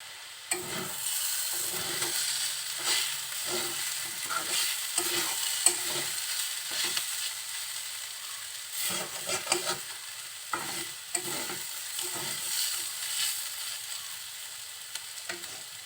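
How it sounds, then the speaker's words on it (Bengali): Potato bhaji frying in a pan while being stirred, repeated scraping strokes of a utensil against the pan over a soft background sizzle, close and rhythmic with short pauses, no talking. "এভাবে নাড়াচাড়া করতে করতে ভাজিটা হয়ে যাবে"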